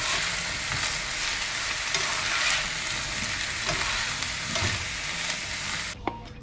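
Halloumi cheese and onions sizzling steadily in a frying pan, a dense close hiss with occasional stirring scrapes, running continuously with no talk.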